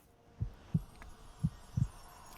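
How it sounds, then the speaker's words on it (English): Four deep, muffled heartbeat thumps added as an effect to a Kingdom Hearts 2 review, evenly spaced in two pairs, close and soft against a quiet background. "That heartbeat was also something I did for the video."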